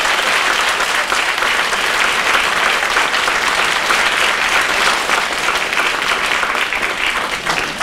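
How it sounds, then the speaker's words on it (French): Loud, dense applause from an audience at a singing contest results ceremony, continuous clapping held at a steady level throughout, close and full, with no talking over it. "applaudissez tous nos candidats."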